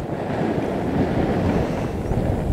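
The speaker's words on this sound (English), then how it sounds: "I'm having difficulty actually standing upright myself, this wind is so strong." Strong coastal wind at Point Cook buffeting the microphone, a loud continuous roaring rumble with a faint wash of surf beneath, no voices heard.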